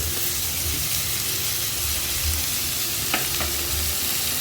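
Squid pieces tossed in a paella pan with green peas, hissing and sizzling steadily at close range, with a couple of brief scrapes and clatters from the toss.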